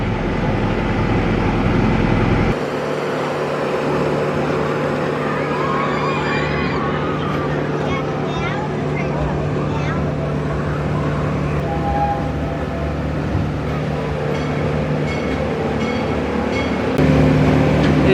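A roller coaster train rolling along its track at Valleyfair, a steady loud rumble with mechanical clatter and a sustained tonal hum throughout, rising briefly near the end.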